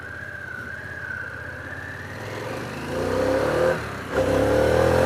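A Harley-Davidson Pan America motorcycle accelerating down a road, its engine note climbing in steady rising pitch, growing louder toward the end with a brief dip between gear pulls.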